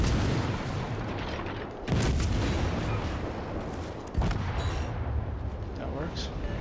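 Naval guns fire high-explosive shells in World of Warships, producing heavy booming salvos over a dense, rumbling battle background, with two louder blasts standing out, up close and continuous.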